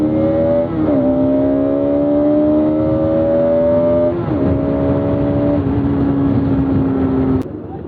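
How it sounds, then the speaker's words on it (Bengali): A motorbike engine drones loudly and close by at a busy roadside dhaba, its steady tone stepping down through shifts before cutting off abruptly near the end. "চারিদিকে শুধু বাইকের ক্যাচার ম্যাচার আওয়াজ ভাই"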